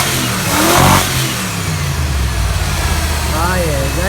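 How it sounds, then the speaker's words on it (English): A Ford 302 Windsor V8 in a rat rod, fitted to a Ford Customline hot rod, revs up loudly near the start and then settles to a rough idle, with a person talking over the engine noise. "we've got the perfectly presented rat rod motor, which is a lovely 302 little Windsor. We'll just give her a bit of a whirl."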